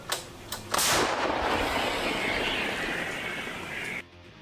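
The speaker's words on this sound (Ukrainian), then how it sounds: "Постріл." A heavy artillery blast booms and rolls out in a long rumbling echo that fades over several seconds before cutting off.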